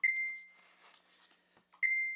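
Two loud electronic beeps from a mobile phone, one at the start and one near the end, with quiet room noise between them and no talking.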